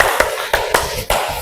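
A group of students in a classroom claps hands together in a clapping game, several sharp, unison claps spaced at a steady counted pace, close and loud.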